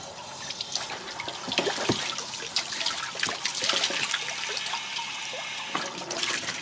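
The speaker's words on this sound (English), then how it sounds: "got a little water heater flusher thing here. Try to flush out all the debris that collects in there." Water gushes and splashes steadily as a flushing wand clears debris from a Suburban 6-gallon RV water heater tank, a continuous close rushing flow with trickles and drips throughout and no talking.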